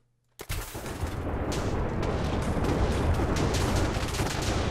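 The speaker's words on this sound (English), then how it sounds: "The 10-story tall machine gun." Rapid, continuous gunfire from a ten-story-tall machine gun in a Minecraft mod, bursting in abruptly after a moment of silence and then roaring on as a dense, loud, unbroken barrage to the end.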